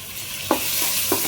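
Tomato masala frying in a pan and being stirred: a bright, loud sizzle with two or three quick spoon scrapes in steady rhythm, close up.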